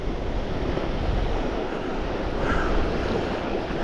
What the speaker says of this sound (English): Let the waves bring these big fish in.